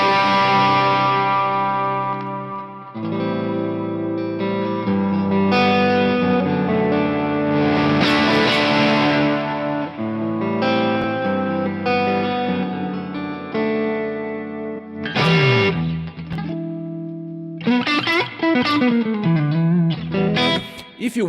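Electric guitar through a Fractal effects unit on a crunch tone with reverb, chords and single-note phrases ringing out with sustained, slightly broken-up harmonics, pausing and restarting in bursts near the end, no talk.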